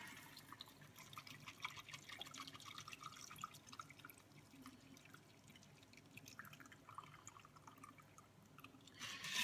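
A lemon whiskey cocktail trickles and drips from a mixer into a glass, soft and close, with a brief louder splash or clink right at the end.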